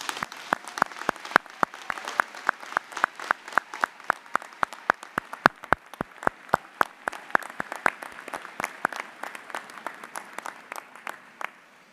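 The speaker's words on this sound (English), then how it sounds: "Please join me in a round of applause for our faculty." Applause for faculty at a graduate commencement ceremony, sparse and distinct hand claps ringing out in a quick, fairly regular rhythm over a soft crowd background, thinning toward the end.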